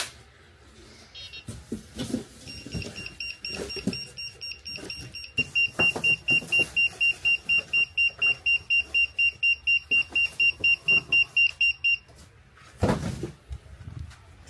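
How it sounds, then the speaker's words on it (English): A Jazzy Ultra Light power chair sounds a rapid run of identical short fault-code beeps, evenly spaced and fairly loud, surrounded by clicks and handling noises. "So we kick it out of gear, and you notice the same beep."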